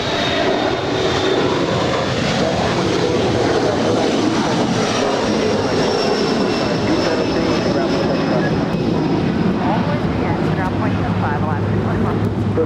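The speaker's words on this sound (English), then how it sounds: "That is Aero Airways Flight 9544 departing to New Orleans. It's a 737-400" An Aero Airways Boeing 737-400, 31 years old, departs LAX for New Orleans, its steady, loud jet engine roar running throughout with a faint high whine while people talk over it.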